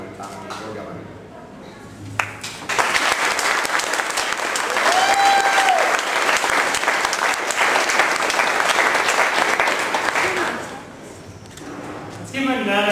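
Applause from a debate audience at a university socialism debate rises after a brief spoken line, holds as steady dense clapping for several seconds, then fades as a voice returns.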